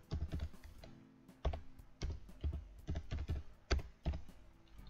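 Typing a file name on a computer keyboard, a quiet sequence of distinct key clicks in uneven bursts with short pauses between, close and alone with no voices.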